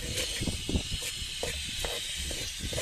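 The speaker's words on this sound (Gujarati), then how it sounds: "તેલમાં થાય છે કડકડ કડકડ" Oil crackles and hisses while frying, a close, continuous sizzle broken by irregular sharp pops and spits, with no voices over it.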